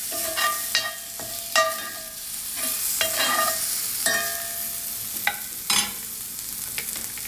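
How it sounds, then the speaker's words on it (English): Mushrooms hiss and sizzle in a hot pan while a utensil stirs them, with sharp scraping clinks against the metal at irregular intervals over the steady frying crackle. "Give that a little stir."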